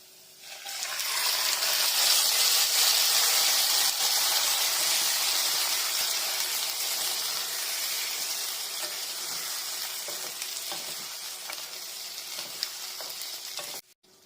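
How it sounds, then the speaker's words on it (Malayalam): Bottle gourd tossed into a pan of browned onions gives a loud, steady sizzle that runs unbroken for about thirteen seconds, close to the pan and with no talk, before it stops abruptly. "നമ്മളുടെ ഉള്ളി അത്യാവശ്യം ബ്രൗൺ ആയി തുടങ്ങി. നമുക്ക് ചുരക്കയിടാം."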